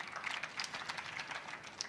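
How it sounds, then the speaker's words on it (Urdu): Audience applause at a session of the Aalmi Urdu Conference in Karachi, a steady dense patter of many hands clapping throughout, moderately loud with no voices over it. "تو اس کے لیے آپ لوگ تالیاں بجا دیجیے گا"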